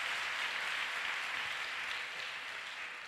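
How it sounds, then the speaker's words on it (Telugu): A church audience at a Christmas prayer service claps steadily in praise, a dense continuous wash of applause that eases off slightly toward the end. "గట్టిగా చప్పట్లు కొట్టి ప్రభువుని స్తుతిద్దాం"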